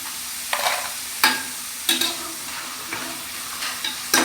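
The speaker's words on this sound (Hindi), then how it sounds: "ये हम बड़ी एहतियात से इनको बाहर निकाल रहे हैं ऑयल से।" Potato chips are lifted out of hot frying oil, with a steady low sizzle broken by several sharp scraping clinks and splashes of the utensil against the pan, about six distinct strokes, close and alone.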